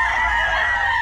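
A young, not yet fully matured rooster on a gamefowl farm gives a brief, loud, close call with a fowl-like tone.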